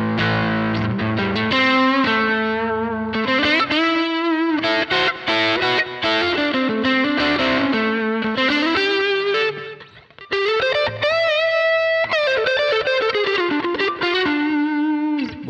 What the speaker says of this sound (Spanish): el preset para la Nux MG30 queda de esta manera